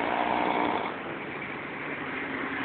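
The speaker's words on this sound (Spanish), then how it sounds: "¡Para de roncar!" A man snoring in steady, rough, continuous breaths, close and fairly loud, with no talking.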